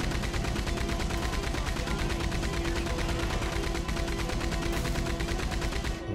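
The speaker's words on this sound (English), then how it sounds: "I'll just keep shooting as long as this thing's got bullets." Sustained rapid gunfire from a weapon in Red Dead Redemption 2, a dense, loud, steady stream of machine-gun-like shots lasting about six seconds before stopping.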